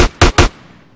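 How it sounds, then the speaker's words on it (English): Gunfire in the video game Grand Theft Auto: San Andreas, three sharp loud shots in quick succession, each decaying into a short echoing tail. "Get some suppressing fire in there!"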